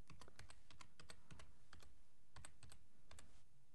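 Rapid keystrokes on a computer keyboard in irregular bursts, close and clear with no talking.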